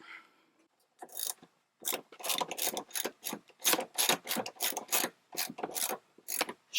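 A hand ratchet loosening seat bolts inside a 2004 Ford F-250, heard up close as a series of quick, rasping clicking bursts with short pauses between strokes.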